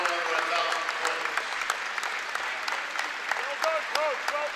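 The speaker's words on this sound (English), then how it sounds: "Ladies and gentlemen, one more round of applause for our 5 seniors" Sustained applause from a crowd honoring five seniors at a Keene State men's college basketball game, broad steady clapping filling the gym with a few voices and cheers rising through it.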